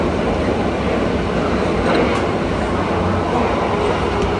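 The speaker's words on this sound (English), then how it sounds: "Do you like riding on the train?" Inside a moving train in France, a steady loud rumble and hiss of wheels on rail fills the carriage, with faint rhythmic clatter and an occasional brief squeak, no talk heard.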